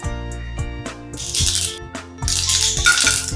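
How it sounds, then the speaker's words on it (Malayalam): Mustard seeds pop and splutter in hot oil in a small pan, sharp crackling bursts arriving irregularly and clustering into dense hissy spells, close and fairly loud with no talking. "അതിലെ എണ്ണ കുറച്ച് മാറ്റി വെച്ചിട്ട് കടുക് പൊട്ടിക്കുക."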